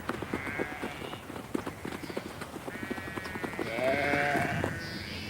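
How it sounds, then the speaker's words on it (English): Several fat-tailed karakul sheep bleat over a busy, clattering background of hooves and movement in desert grazing land, the calls wavering and overlapping, fairly close. "Their fat-tailed sheep, called karakuls, graze the desert vegetation."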